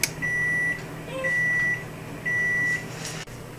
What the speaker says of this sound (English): we're going to press to start the oven